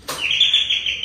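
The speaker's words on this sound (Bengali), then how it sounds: "এবার পাখির আওয়াজ" Electronic doorbell sounding a single bird-chirp tone, a bright sustained whistle-like trill ringing clearly nearby for about a second after a sharp onset.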